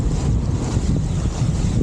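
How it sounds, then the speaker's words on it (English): Wind picks up around a sailboat off the south coast near Portland Bill, a loud, constant roaring rush over the microphone mixed with the wash of choppy water, with no talking. "Wind's picked up."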